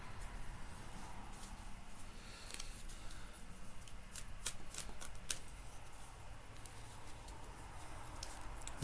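Tarot cards being shuffled, a soft, close riffling patter with crisp flicks and a few sharper snaps, fairly quiet and continuous, with no talk.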